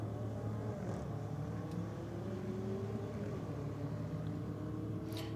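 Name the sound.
Ford Falcon racing BMW X5 on drag strip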